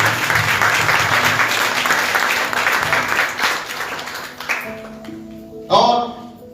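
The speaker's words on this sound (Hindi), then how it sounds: "सब जोरदार तालियां बजाएं।" A church congregation applauds loudly during a service: a thick, sustained wash of clapping for several seconds that then dies away, followed by a brief voice and tonal sounds.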